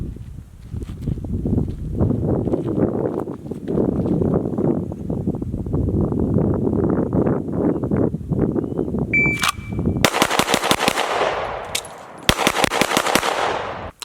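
Handgun shooting drill at 7 yards: six rapid shots, a reload, then six more, each a sharp close crack in tight strings, with footsteps and shuffling before the firing.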